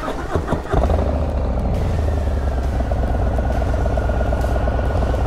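A 2022 Harley-Davidson Low Rider S with a 2-into-1 exhaust cranks over and catches, then settles into a loud, steady, deep and throaty idle with a pulsing low rumble close by.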